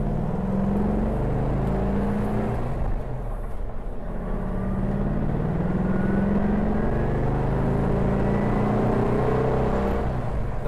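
A 1964 Porsche 356 SC pulls through its gears from inside the cabin, engine note rising and dropping with each shift, loud and continuous with no talking.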